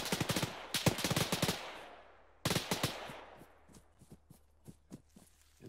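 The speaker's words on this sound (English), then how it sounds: "Someone's shooting at us." Rapid bursts of gunfire in the Arma 3 military shooter, two clusters of sharp, loud shots with a gap between, then scattered fainter shots trailing off as if farther away.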